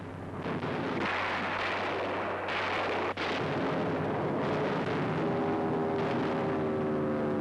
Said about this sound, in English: Attacked by night, and still Allied guns blaze defiance.